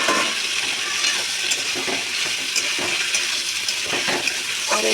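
Pieces of ash gourd drop into spice paste frying in oil, giving a steady, close, dense sizzle with scattered crackles and no talking.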